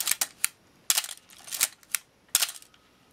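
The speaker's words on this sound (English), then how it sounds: "I'm going to set that back on instantaneous there. The shutter curtains are advancing nicely." Canon AE-1 Program camera shutter firing on instantaneous speed, several crisp mechanical clicks with film-advance ratchets between them, close and clear in a quiet room.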